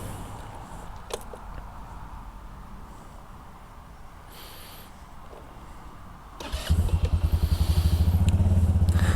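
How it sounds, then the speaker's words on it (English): A Hooligan 170i sport scooter running through its startup sequence: a quiet idle hum with a few clicks and electronic chimes, then the engine fires and settles into a loud, steady, throbbing idle close by. "Let me do that startup sequence again here for you guys so you can see it."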